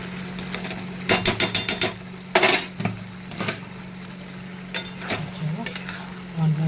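Banana flower curry with ghee and garam masala stirred in a pan, bursts of loud scraping and clinking from a spatula against the pan over a steady background hum, with a faint sizzle between strokes.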